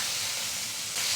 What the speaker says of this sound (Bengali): এবার ফোড়নটা একটু নাড়াচাড়া করে এর মধ্যে দিয়ে দেব কুচিয়ে নেওয়া পেঁয়াজগুলো।